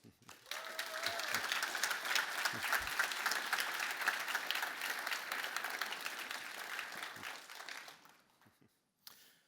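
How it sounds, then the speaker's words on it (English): A roomful of people at a conference keynote claps steadily for about eight seconds, a dense sustained applause that fades out near the end. "give our customers in this room a huge round of applause"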